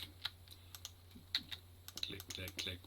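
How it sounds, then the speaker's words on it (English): Mouse button clicks while playing Minecraft, a scattering of close, crisp taps over a faint hum, with a voice talking softly toward the end. "I am actually clicking the mouse button"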